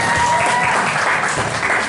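An audience at a church retreat sermon session claps in steady, dense applause, close and loud throughout.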